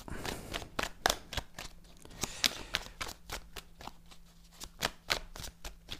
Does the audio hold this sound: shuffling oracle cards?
yes